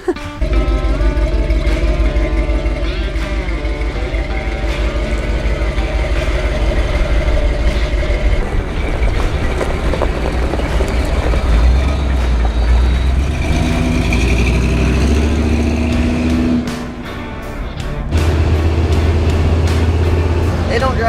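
A 1978 Ford Ranger pickup driving on the road, its engine and drivetrain giving a loud continuous low rumble from inside the cab that shifts partway through, with someone talking over it.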